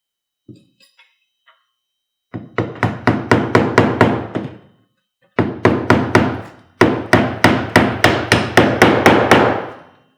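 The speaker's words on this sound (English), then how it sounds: "you can just come through here with some roofing nails and pin this in place" Roofing nails hammered into asphalt roof valley flashing: a few light taps, then three loud bursts of rapid, evenly spaced hammer strikes, close and ringing, with no talk.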